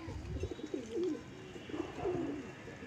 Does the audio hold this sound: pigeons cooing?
yes